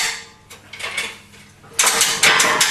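A Grizzly air/hydraulic shop press is cranked by hand, giving a loud, rough mechanical rattle and grinding. The noise comes in uneven surges and grows heavier and more sustained toward the end.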